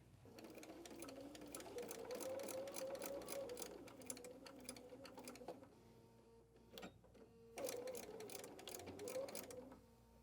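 A sewing machine stitches a seam on a fabric door banner, running steadily for several seconds, pausing briefly, then starting again with a short reverse back tack, all close and fairly loud with no talking.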